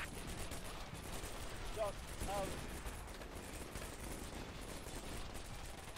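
Heavy firefight in the Combat Mission Shock Force war game, a dense continuous rattle of gunfire with distant blasts, fairly faint, a voice speaking over it.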